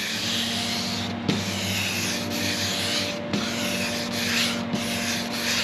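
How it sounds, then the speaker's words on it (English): Final hand sanding on an outboard motor cowling body line, with rhythmic back-and-forth rubbing strokes, close and steady, each pass ending in a light tap. "So I gotta be careful at this point about going too far, getting too aggressive, because this is the final sand."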